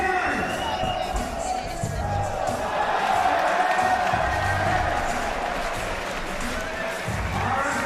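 Crowd at a Vans Rebel Jam BMX street contest cheering and whooping steadily through the whole stretch, a broad wash of voices with shouts rising above it.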